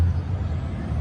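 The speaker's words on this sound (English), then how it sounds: "Sorry about the traffic noise." A truck's air brake releases a short burst of hiss amid road traffic beside a strip mall, over a low rumbling engine drone at fairly close range.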